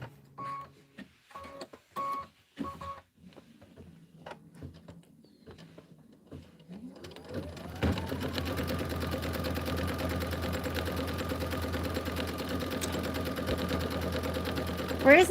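A few spaced beeps and clicks give way to a sewing machine starting up and stitching in a loud, continuous close whir that lasts to the end.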